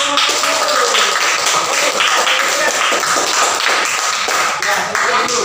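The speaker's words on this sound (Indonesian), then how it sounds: "beri tepuk tangan dulu" Students in a classroom clap in applause for a group presentation. Dense, loud, steady clapping fills the whole span, with voices mixed in.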